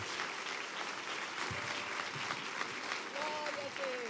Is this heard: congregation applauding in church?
yes